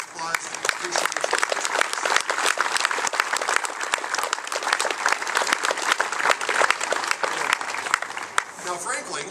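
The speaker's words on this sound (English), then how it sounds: "Let's give them all a round of applause for the appreciation." Sustained, dense audience applause for fire department members at a September 11 memorial service at the Minnesota state capitol, a loud steady roar of many hands clapping throughout.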